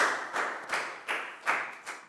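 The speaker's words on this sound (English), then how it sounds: "Big round of applause" A Year 4 science class gives a round of applause, with five or six separate bursts of clapping in an irregular rhythm, close and fairly soft, with no talking over it.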